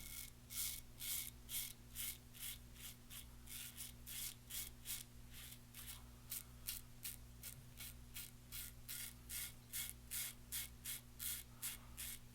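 A Razorine Flatboy razor scrapes across facial hair in quick, rhythmic strokes, each a crisp rasping swipe, very close and steady, with a low electrical hum underneath and no speech.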